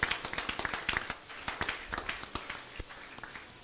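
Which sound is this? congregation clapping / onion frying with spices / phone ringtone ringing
congregation clapping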